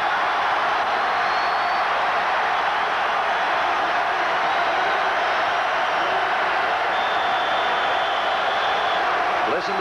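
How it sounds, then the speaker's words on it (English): A dense, continuous roar from the crowd at a 1988 Kentucky versus LSU football game, loud and sustained for the whole stretch, with a commentator's voice running beneath it. "Listen to the crowd"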